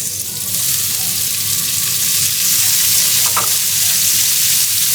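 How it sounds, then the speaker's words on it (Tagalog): Tomatoes go into a hot pan of sizzling onions, producing a loud, dense, continuous frying hiss up close with a brief stirring clatter midway and no talk. "Ayan, init na siya. Ayan, sunod na natin yung kamatis."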